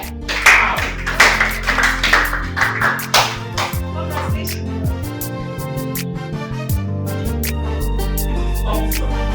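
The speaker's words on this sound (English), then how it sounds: "Clap for her." An audience claps unevenly and close by for a few seconds over low, sustained background music, then the clapping thins out while the music continues alone.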